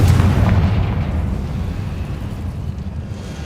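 A Confringo blasting spell goes off in the Hogwarts Legacy video game, a loud booming explosion at the start that rolls away into a long, fading rumble.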